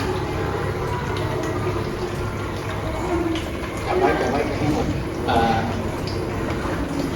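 Water flows steadily from a tap, filling a container, a continuous near rushing splash with people talking over it.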